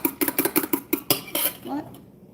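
Ingredients are beaten together in a bowl, with a quick run of about ten sharp, rhythmic utensil knocks against the bowl, then a short scrape as the mixing slows and stops.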